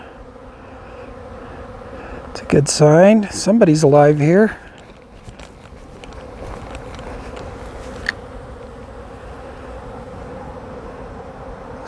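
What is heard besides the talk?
honeybees flying around hives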